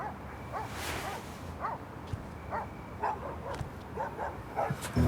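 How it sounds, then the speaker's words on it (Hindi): Several dogs bark in the distance with short, scattered yips at irregular intervals, fairly faint beneath a steady background hiss. "ये कुत्ते क्यों इतना भौंक रहे हैं?"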